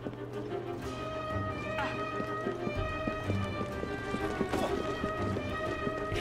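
Galloping horse in the Assassin's Creed Syndicate video game, steady rapid hoofbeats under a continuous bed of game ambience and tonal music, with someone speaking German over it.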